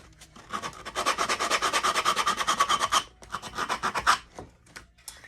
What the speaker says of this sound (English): Just anywhere I can get the sanding block in there